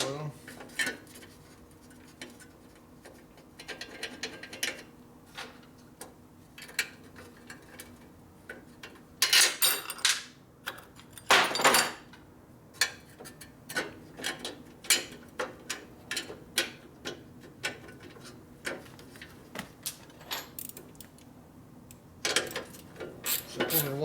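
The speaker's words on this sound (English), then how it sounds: "Get these front bolts fitted in there now before it's too late to get those in." Bolts being fitted to the front of a 1957 Harley-Davidson panhead engine, with scattered metallic ticks, clinks and rubbing of tools and hardware, some sharper bursts of handling noise, close up and fairly quiet, with no talk.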